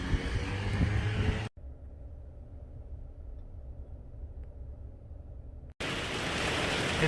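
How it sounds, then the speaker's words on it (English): Rain falling outside an RV parked at a charge point, a steady broadband hiss that drops to a muffled, quieter wash in the middle stretch before returning loud and close at the end. "It's raining out"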